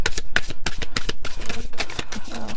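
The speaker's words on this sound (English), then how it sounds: "let me give it one more shuffle just in case" A deck of cards shuffled by hand, a rapid run of crisp riffling flutters and snaps, close and loud, with no talking.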